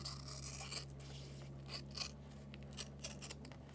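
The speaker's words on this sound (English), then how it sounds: "So I'm just going to put a snip there" Scissors snip through vinyl headlining material in a series of short, close cutting sounds over a steady low background hum, with no talking.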